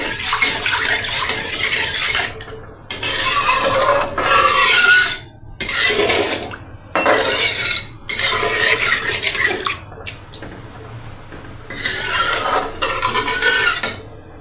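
A spoon stirring a mixture into cold milk for ice cream, a wet rasping swish in repeated strokes of a second or two, close and fairly loud with brief pauses between strokes.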